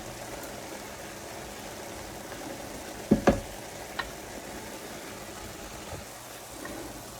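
Ground meat and onions for cheeseburger sliders simmer in a pan as their juice cooks down, giving a steady, faint sizzle with a couple of sharp knocks partway through.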